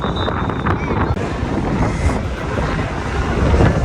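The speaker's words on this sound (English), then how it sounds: "So windy. It's hard to film." Strong wind buffets the microphone at a cruise port in Cozumel, Mexico, a loud, steady roar of rumbling gusts that swells toward the end, with faint water and boat noise underneath.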